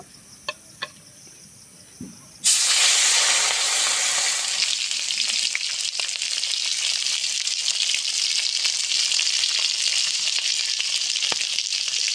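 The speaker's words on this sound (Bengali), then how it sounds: "জোর মাছটা ভেজে নেব" Fish dropped into hot mustard oil in a wok, quiet at first with a few faint clicks, then a sudden loud burst of sizzling that settles into a continuous hissing fry to the end.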